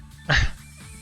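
A single short dog bark sounds in the video game 9-nine-, brief and fairly close, over quiet background music.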